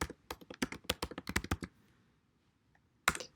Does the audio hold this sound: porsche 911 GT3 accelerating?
no